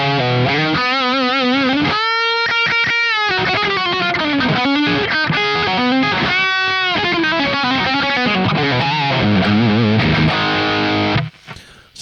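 Electric guitar played through a Quad Cortex 800 amp capture, heavily distorted riffs with sustained chords and single-note runs, loud and close, ending with a brief drop.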